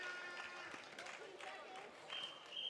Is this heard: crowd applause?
yes